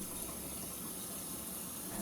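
Hot water running steadily from a tap, a continuous broadband hiss and splash that stays even and close throughout, with a small surge at the very end and no voices.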